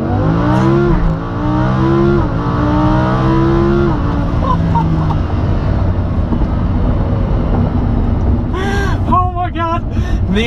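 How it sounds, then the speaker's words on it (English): A Lamborghini Huracan launches hard under launch control, its engine note climbing through several rising gear sweeps, loud and close, with a person talking over the continuous roar. "activate launch control so you can hear the ridiculous sound of the Huracan"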